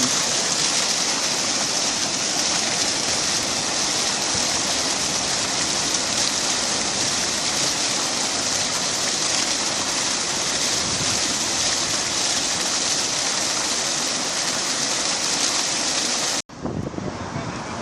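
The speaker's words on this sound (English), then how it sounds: "The good thing about this fountain is that the water is so clean." A fountain with clean water splashes in a steady, dense rush, close and loud for most of the time before cutting off abruptly near the end.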